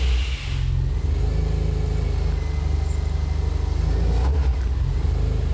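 A car engine fitted with a HiLow horsepower modification runs steadily and close by, with a loud, constant low rumble and light revving throughout, and no talking.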